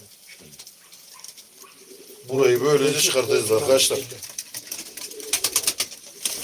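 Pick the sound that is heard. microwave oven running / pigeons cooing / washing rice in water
pigeons cooing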